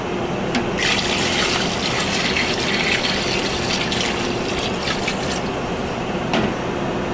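Steady rushing water pours continuously into a stockpot, a full, close splashing stream that holds level throughout with no talking.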